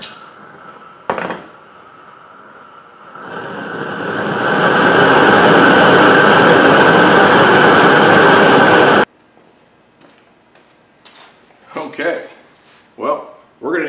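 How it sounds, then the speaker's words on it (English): A propane weed burner of the roofing tar heater kind, rated around 500,000 BTU, roars loud and steady for about five seconds while heating a homemade aluminum casting kiln, then cuts off, leaving quieter sounds and brief talk. "connecting a pretty commonly available weed burner or roofing tar heater, such as these"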